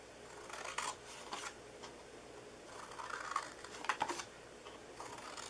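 Paper party favor box being cut with scissors, a series of soft, crisp snips and paper rustles close by in a quiet room, with no talking.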